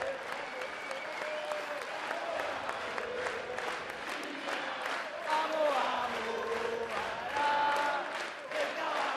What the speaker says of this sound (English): And listen to them celebrate, sing with the crowd.